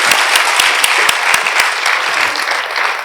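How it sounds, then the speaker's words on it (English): An audience claps for a speaker at an institute talk, a loud, close burst of applause with a few distinct sharp claps riding over a continuous wash of hands, holding steady for a few seconds. "A round of applause for him"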